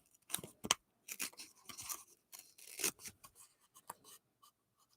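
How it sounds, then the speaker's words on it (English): Scissors snip through craft foam around a photo in a quick, close-up series of crisp cuts with brief pauses between them. "And then I'll do like this. Just cut around the photo."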